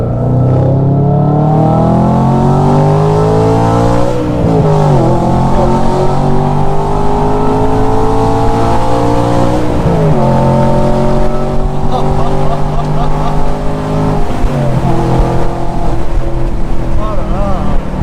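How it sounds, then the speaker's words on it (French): Car engine decelerating after the throttle is lifted, a loud continuous exhaust note with pitch sweeps falling and rising across several overrun cycles, close and dominant, with a voice faintly underneath. "Quand elle décélère, elle fait un son qui est incroyable."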